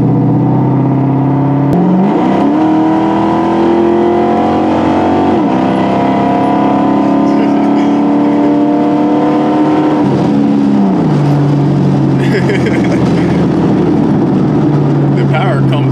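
A 2002 Ford Mustang GT engine revs and accelerates hard, pitch climbing through several gear changes, loud and close throughout.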